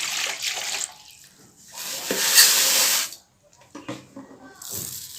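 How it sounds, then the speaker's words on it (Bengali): Water pours from a tap into a cooking pot to soak rice, coming in two hissing splashy runs separated by a pause, followed by quieter clatter near the end. "এবার দিয়ে দেবো জল"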